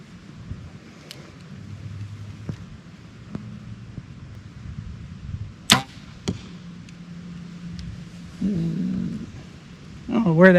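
An arrow released from a bow at an archery target, giving a sharp snap and quick thud mid-clip amid breezy outdoor noise, with a second sharper hit soon after and some movement at the end.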